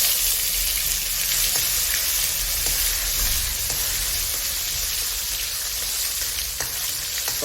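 Cumin and tomatoes fry in hot ghee with a loud, continuous sizzling hiss, broken now and then by faint stirring clicks, with no voices.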